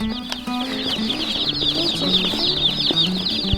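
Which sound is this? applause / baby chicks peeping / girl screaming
baby chicks peeping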